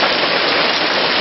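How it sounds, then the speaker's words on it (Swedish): Steady, dense hiss of rain falling, continuous and even throughout with no other sounds. "Men ni kanske inte märker, men det regnar lite."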